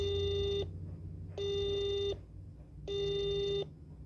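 A ZL54C smartwatch rings with an incoming Bluetooth call: three evenly spaced bursts of a bright, steady electronic tone, each lasting under a second, separated by short gaps over a low background hum.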